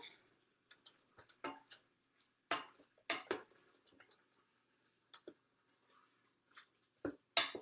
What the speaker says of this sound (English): I'm gonna stir it up a little more